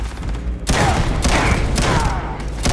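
Heavy gunfire with strong recoil in Starfield, a dense, loud burst of shots running continuously from about the first second to the end, with booming low thuds under the rapid fire.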